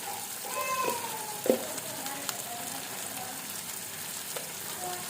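Spice paste for Afghani egg curry sizzles steadily in a hot pan, with a few sharp knocks and scrapes from stirring over the continuous frying hiss.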